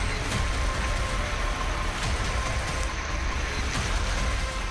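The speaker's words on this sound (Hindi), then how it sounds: "बारिश और बाढ़ से तबाही क्या होती है, गुजरात के जूनागढ़ से आई ये तस्वीरें बता रही हैं।" Heavy rain and floodwater in Junagadh, Gujarat, make a loud, steady, broadband roar of pouring and rushing water that continues without a break, with no voices.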